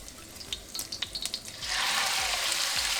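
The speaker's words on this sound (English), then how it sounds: "once your ginger's been frying for about 2 minutes, you can add in your meat" Light clinks and scrapes of stirring frying ginger, then the pan bursts into a loud, steady sizzle as meat hits the hot oil.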